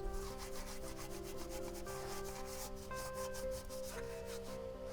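Scotch-Brite pad scrubbing greasy gunk off an anti-roll bar part with brake cleaner, outdoors in a field; a steady, continuous close-up rubbing and scouring that runs without pause, with no talking.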